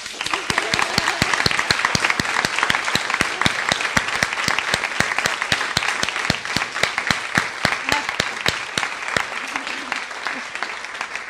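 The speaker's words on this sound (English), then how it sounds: "I think Abeer deserves a round of applause." A small audience applauds after a film screening at a director's Q&A, steady dense clapping close by that carries on evenly for about eleven seconds, thinning slightly near the end.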